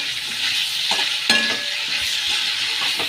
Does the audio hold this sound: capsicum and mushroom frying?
yes